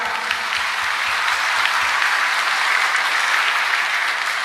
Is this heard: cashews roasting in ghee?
no